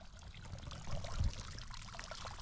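Water trickles and splashes steadily into a repaired cattle trough at a corral, a continuous close watery rush with a slight swell midway.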